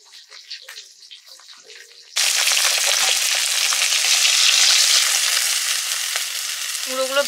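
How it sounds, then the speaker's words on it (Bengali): Whole bata fish dropped into hot oil in a pan burst into a loud, sustained sizzle after a quieter opening, crackling steadily to the end. "এবারে বাটা মাছগুলো ভেজে নিচ্ছি গোটা গোটা।"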